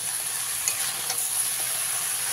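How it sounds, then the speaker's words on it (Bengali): Pumpkin greens chorchori is stirred in a pan, making a steady, close sizzling hiss with faint scrapes from the spoon. "দিয়ে আবারও একবার ভালো করে মিশিয়ে দেবো।"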